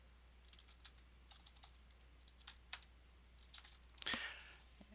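Keyboard typing, bursts of quick light key taps with brief pauses, quiet and near, ending in a slightly louder clack or rustle, over a low steady hum.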